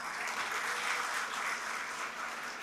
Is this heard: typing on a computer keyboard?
no